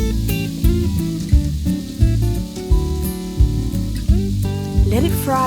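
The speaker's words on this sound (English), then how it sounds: "Let it fry until brown." Coated squid frying in hot oil, a steady sizzle under strong, low-pitched music that dominates and masks much of the frying.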